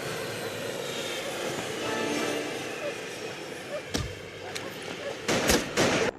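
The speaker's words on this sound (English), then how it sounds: "you board the plane just like the film, and you take off" An airplane takes off in The World is Not Enough video game, a continuous engine roar that swells slightly, punctuated near the end by a few sharp thumps.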